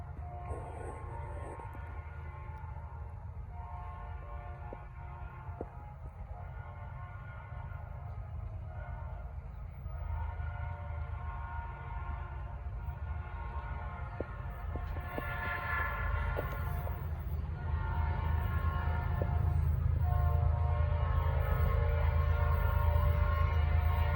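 A Norfolk Southern freight train led by a 28R locomotive rumbles past with a deep, steady drone as its horn sounds in long tones over the noise, growing louder toward the end.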